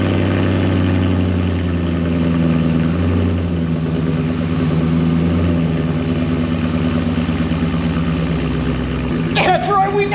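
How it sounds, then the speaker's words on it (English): LS-swapped car engine idling through a side exit exhaust that runs out through the quarter panel: a steady, loud, low burbling rumble held close for the whole stretch, with a brief rev or clatter near the end. "we now have a side exit exhaust right through the quarter panel"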